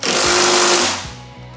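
A power tool buzzes hard and loud for under a second while snugging threaded bolts on a Polaris snowmobile skid, then winds down into softer stuttering bursts.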